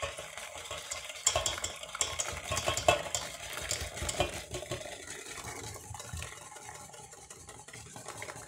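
Whisk or fork beating eggs fast into hot milk in a saucepan, a quick, steady scraping and clinking stir that carries on close up with no talking, easing slightly toward the end.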